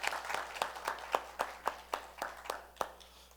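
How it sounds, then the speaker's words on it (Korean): A church congregation gives the choir a short round of applause, about a dozen evenly spaced claps heard from a moderate distance, fairly soft and without talking. "처음으로 우리 중창단 했는데 격려의 박수 한번 드리죠."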